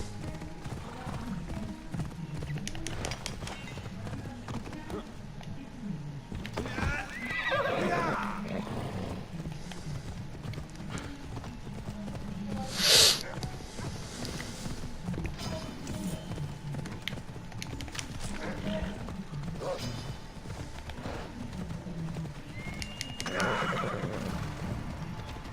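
A horse in the video game Assassin's Creed Odyssey gallops with steady clip-clop hoofbeats and gives a few loud whinnies, while someone talks over it.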